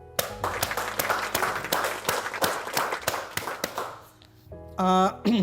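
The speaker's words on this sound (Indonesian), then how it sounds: "Tepuk tangan tuh." A studio audience on a talk show claps in loud, distinct, fairly regular strikes that ring out close for about four seconds, then taper off as a voiced, tonal sound takes over at the end.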